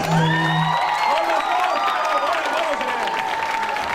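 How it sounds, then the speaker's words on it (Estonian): Audience applause and cheering for a youth funk dance performance at a talent show, loud and dense with whoops, shouts and a crowd roar, while tonal music plays through it. "aplaus!"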